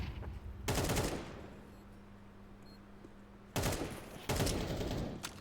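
Bursts of automatic gunfire from a Counter-Strike match, with a sprayed burst through smoke: two loud, dense volleys, one at the start and one near the end, separated by a quieter stretch of low background hum.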